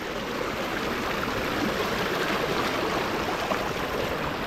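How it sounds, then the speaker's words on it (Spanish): A small stream of flowing water at a convent site in Sajoma, Dominican Republic, makes a steady, close, broadband rushing and gurgling that runs unbroken, with no voices over it. "Esa pequeña cañadita de agua."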